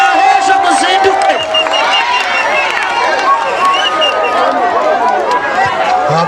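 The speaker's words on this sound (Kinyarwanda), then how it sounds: "amashyi menshi" A large crowd at a Burundian national prayer gathering with worship songs claps and cheers loudly and continuously, with whoops and shouts over a dense wash of voices.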